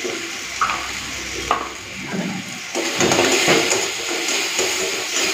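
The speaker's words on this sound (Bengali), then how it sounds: "মশলাটাকে একটুখানি ভালো করে ভেজে নিই, এই কাঁচা গন্ধটা যতক্ষণ না যাচ্ছে।" Turmeric spice paste frying in a pan for small-shrimp bharta gives a constant hiss and sizzle that swells partway through, with occasional light knocks from stirring, close up and without talking.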